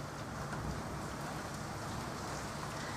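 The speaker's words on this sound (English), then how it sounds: "Look, it is pouring with rain, and I can hear it" Steady heavy rain pours down without pause outside a hospital, a dense, even hiss of countless drops filling the space.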